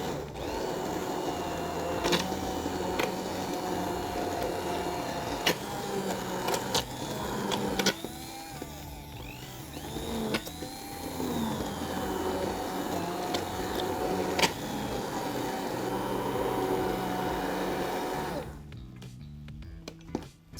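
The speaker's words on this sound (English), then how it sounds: "we're gonna grab our stick blender and give it a nice blend" A stick blender whirs through tomato sauce as a steady, close motor drone with shifting pitch, running continuously for about eighteen seconds before cutting off, with no talking.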